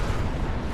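A loud, dense explosion roars through the whole brief moment in Fallout 76, a deep broadband blast with no quiet gap and no voices.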